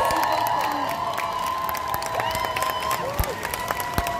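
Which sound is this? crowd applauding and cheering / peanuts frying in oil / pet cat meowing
crowd applauding and cheering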